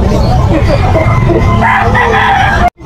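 A stag, a young gamecock, crows loudly and close at a busy roadside poultry market in Malabon, one long strained call running under nearby chatter and market noise before cutting off abruptly.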